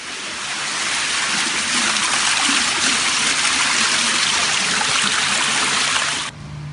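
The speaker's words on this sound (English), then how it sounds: "On the stairwell, water streams down what would have been the only escape route for families." Water streams steadily down a stairwell in a tower block after a fire, a loud, close, continuous rushing wash that cuts off near the end.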